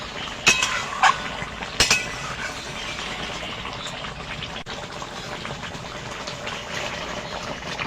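Hilsa fish curry in mustard oil is stirred in a pan, with a few sharp spoon clinks early on, then a steady, soft simmering hiss.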